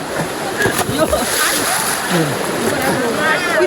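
Water splashes in a stream during the rainy season as people play in it, a busy, continuous churning of splatters close by, mixed with excited voices talking throughout.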